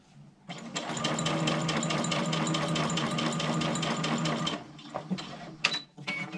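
A sewing machine stitching a fabric face mask with light pink thread runs in a steady, fast, close mechanical whir for about four seconds, then stops, followed by a few small handling clicks.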